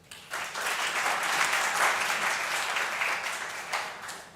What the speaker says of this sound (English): So another applause for Viola.